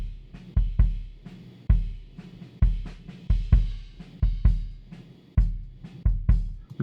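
Punchy kick drum hits processed with noise gate and EQ, in a quick, uneven pattern, tighter and cleaner with short, clipped decays, heard alone without other instruments.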